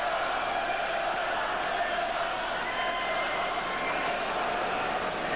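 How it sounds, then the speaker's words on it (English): Hockey crowd at a 1986 Flames at Bruins NHL game, a dense continuous roar of cheering and yelling filling the arena at steady loudness throughout. "And now the crowd really getting into the hockey game."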